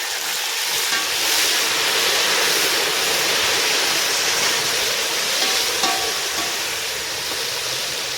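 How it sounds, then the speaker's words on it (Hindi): Loud, steady sizzle and bubbling of a hot tadka just after a little water is poured into degi channa pulao, a continuous frying hiss with no talk. "आप तड़के की आवाज़ सुने, कितनी ज़बरदस्त इसकी आवाज़ आ रही है।"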